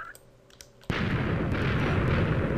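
A sudden loud blast erupts in the video game Minecraft after a few quiet clicks, followed by a sustained roaring rumble that fills the rest of the moment, with no voices.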